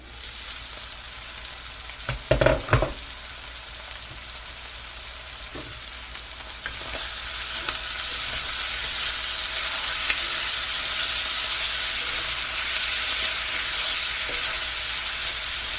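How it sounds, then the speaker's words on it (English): Corn and vegetables frying in a skillet for corn chowder: a brief clatter of stirring early on, then a steady close sizzle that swells louder and holds on with no one speaking. "So I want it to fry. And everything to fry. The corn and everything."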